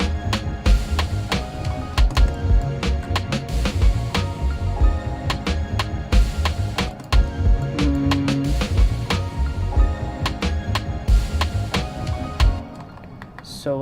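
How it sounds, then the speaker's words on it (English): Electronic music track with a repeating snare drum pattern, full and steady throughout, layered with synths and bass, dropping in level near the end. "Definitely we want our snare now to sort of repeat"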